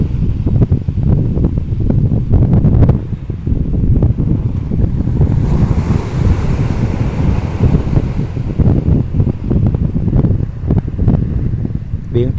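Wind and surf at Quy Nhon beach in Vietnam, a steady loud broadband roar of waves and gusts buffeting the microphone throughout, with someone talking over it.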